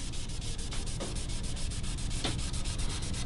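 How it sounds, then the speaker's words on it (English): A tool scrapes along the binding edge of a guitar body to clean it up after the first coat, making a steady, close, raspy rubbing sound with faint repeated strokes and no speech. "go back and scrape the binding clean once you're done"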